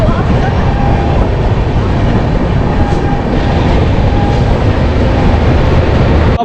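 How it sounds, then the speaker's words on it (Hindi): 12533 Pushpak Express departing platform 3 at Nashik Road, a loud, steady rolling rumble with faint clatter heard from inside the train, with a voice talking underneath throughout. "नासिक के प्लेटफॉर्म नंबर 3 से हमारी ट्रेन डिपार्ट हो रही है 3 मिनट का हॉल्ट लेके"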